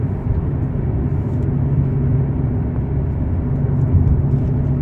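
A car passes on a road at night with a steady, loud low rumble of engine and tires throughout and no talking.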